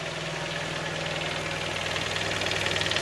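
A noisy car engine, just serviced, idles steadily nearby with a rough, ticking knock running through its constant hum.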